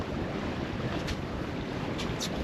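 Sailboat sailing in open water, a steady close roar of wind and waves washing along the hull with no break.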